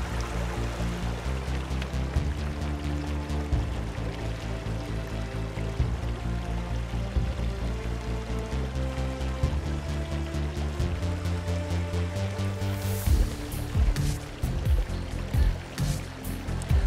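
Footsteps wading upstream through a flowing river, steady splashing and rushing water close by, continuous and loud with no talk.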